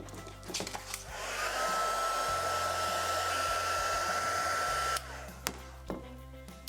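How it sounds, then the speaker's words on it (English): An electric heat tool blows steadily as it heat-sets gold embossing powder on a stamp, a continuous loud whir that starts about a second in and cuts off near five seconds, followed by a few light knocks. "I'm going to heat set that now before we move on to the next one."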